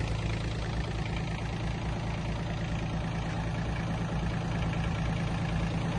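A small Iseki Japanese mini tractor diesel engine runs steadily driving a rotary tiller, with a constant throbbing drone and mechanical rattle, close and loud, without speech.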